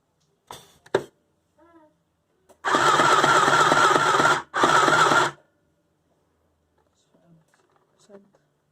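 A double-thread sewing machine stitches in two loud, steady motor runs of a few seconds each, close up, with scattered clicks and handling noises before and after.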